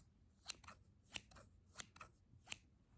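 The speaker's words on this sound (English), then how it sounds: "our next sound is going to be a pair of scissors." Four crisp snips of scissors at a steady rhythm, close and clear against a quiet background.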